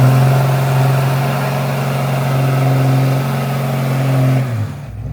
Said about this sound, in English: Four-wheel drive burnout?